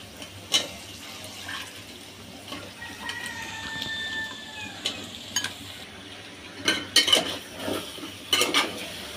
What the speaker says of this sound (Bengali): তো এখন আমি আলু আর ডাটা একসাথে দিয়ে আবারও একটু মশলার মধ্যে ভেজে নেব।